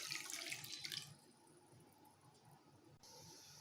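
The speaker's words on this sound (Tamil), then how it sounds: "கடாயில் இப்போ கொஞ்சம் தண்ணி சேர்த்துக்கிறேன்." Water splashes and pours steadily into a cooking pan for about a second, then settles into a quieter running trickle, close by.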